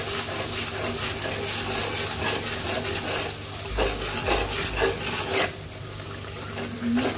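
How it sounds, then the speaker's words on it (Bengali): A spoon scrapes and stirs chicken and bottle gourd curry in a pan, a steady rasping, sizzling texture with intermittent louder scrapes over several seconds. "এখন একটু লাড়াটা দিতে হবে।"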